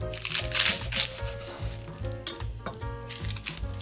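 Crispy roasted seaweed chips (gim bugak), baked rather than fried, crunching and crackling in a few sharp bursts over steady background music.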